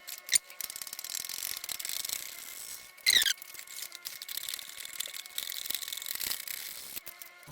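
Two brake pedal bolts coming out of a Husqvarna 701 motorcycle, heard as quiet, close ratchet clicks in irregular runs with a brief sharp metallic squeal partway through and no voices.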